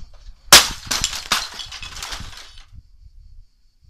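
A hi-fi CD stereo thrown from a fourth floor hits the ground with a sharp crash, followed by several clattering impacts and rattling debris that fade out after a few seconds.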